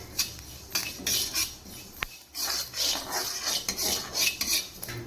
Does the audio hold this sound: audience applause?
no